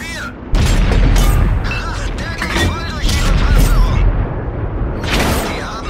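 Heavy tank cannon fire booms from the side in a World of Tanks-style battle with an E 100, loud repeated blasts and rumbling mechanical noise, with a voice talking over parts of it.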